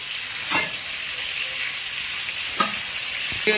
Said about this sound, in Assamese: বৰ মিহি মিহিকৈ জ্বলি আছে মিহি মিহিকৈ ভাজা হৈ আছে